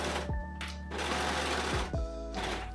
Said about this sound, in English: Since we're working with stretchy fabric, our seams should be stretchy too, so I'm using my serger